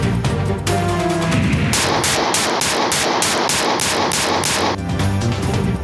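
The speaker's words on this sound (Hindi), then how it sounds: "सोशल मीडिया पर वायरल होने के लिए खवातीन भी हवाई फायरिंग में मुलव्विस।" Aerial gunfire: a rapid, loud burst of repeated shots cracks in a steady rhythm over a dense, noisy background, then stops abruptly.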